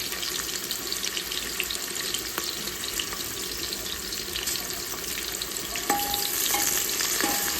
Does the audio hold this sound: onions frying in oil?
yes